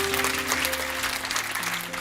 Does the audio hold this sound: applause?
yes